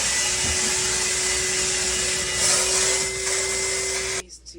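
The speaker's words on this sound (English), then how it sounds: "he's sucking it up in our trusty old vac" An old shop vacuum sucks up coolant on a boat, a loud, steady whining roar that runs continuously and close, then cuts off abruptly near the end.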